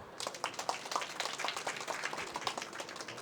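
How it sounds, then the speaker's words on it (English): A scattered round of applause at a startup pitch event: light, steady clapping from a modest audience, fairly faint and distant. "So a round of applause."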